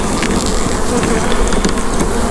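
Honey bees swarm around an open hive during an inspection, making a dense, loud, close buzzing drone that never lets up.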